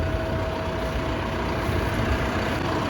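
A Kioti HX1151 tractor, a 150-horsepower machine, idles with a steady, loud, low diesel drone and a faint constant whine, with no talk.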